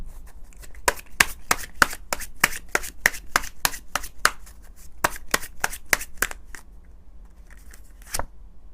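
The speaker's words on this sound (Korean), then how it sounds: "그렇다면 우리 마지막 힘을 실어줄 수 있는 조언 카드 뽑아봐야겠죠?" Tarot cards being shuffled and drawn: a rapid run of sharp, crisp card snaps and flicks, close and clear, thinning out toward the end with one final slap, no talking.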